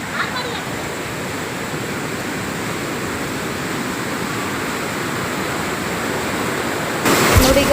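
Backwater at Gajanur Dam rushing and splashing in a continuous loud, broadband roar with no letup, heard close by, with a sharp rise in level near the end.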